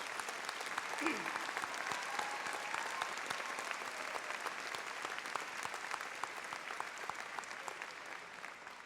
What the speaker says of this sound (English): Please join me in a round of applause for all the participants.